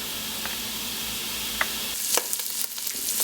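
Half a pound of spiced country sausage browns in a pan for Cajun dirty rice, a steady close hiss of sizzling fat with a few sharper crackles and stirring scrapes near the end.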